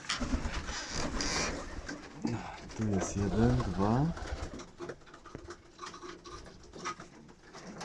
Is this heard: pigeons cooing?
yes